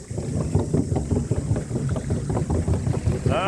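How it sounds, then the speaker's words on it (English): A small outboard-motor dinghy on the water in the Marlborough Sounds, its engine droning and thumping in a steady pulsing rhythm close by, with wind and water splash mixed in. "A little outboard bloody dinghy."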